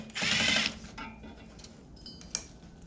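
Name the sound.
wrench loosening a bolt on a heater box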